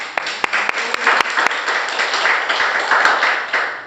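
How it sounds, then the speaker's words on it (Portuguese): Church congregation clapping together during a worship service, a steady dense wash of applause with a few sharper individual claps standing out, fairly loud and close. "Uma salva de palmas para Jesus"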